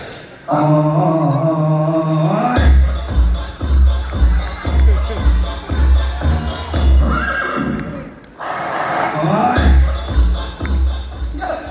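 A horse whinnies loudly with shaky, drawn-out neighs, alongside rhythmic clopping and a busy crowd in the background.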